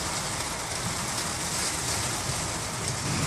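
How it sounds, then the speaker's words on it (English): Rain falls steadily in a backyard on a small farm in Wisconsin, a dense, even hiss of drops pattering on surfaces with no voices. "it's actually starting to rain right now"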